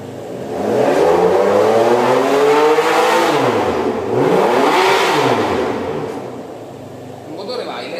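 An engine revved repeatedly during a repair, rising and falling in pitch across several sustained pulls, close and loud, with a short idle at the end.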